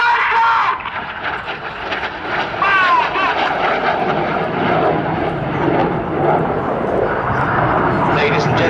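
Red Arrows jets roar past at the Farnborough airshow, a loud, continuous rushing engine noise filling the whole clip while a commentator talks over a public address system.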